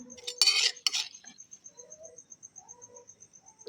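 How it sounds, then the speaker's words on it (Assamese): Homemade chili pickle tipped and spooned into a plastic bottle, with a burst of clinking and scraping at the start, then faint, soft rhythmic taps and shuffles, no talking. "এয়া মই বটলত ভৰাই দিছোঁ।"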